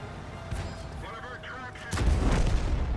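A tank cannon shot in World of Tanks lands as a heavy boom near the two-second mark, breaking into steady battle rumble with some mechanical whines before it.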